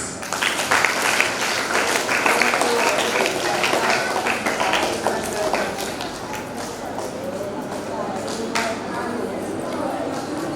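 Children applaud together to welcome a fifth-class boy onto the stage at a Brahma Kumaris summer camp in Kakinada, with steady, dense clapping throughout under a murmur of voices.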